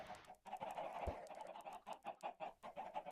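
Minecraft chickens clucking in a short run of repeated, fairly quiet clucks with no talk over them.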